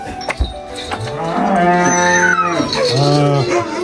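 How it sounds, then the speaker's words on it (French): Cattle on a countryside farm moo loudly and close by in long, drawn-out bellowing calls that overlap one another, with no talking. "Les belles vaches!"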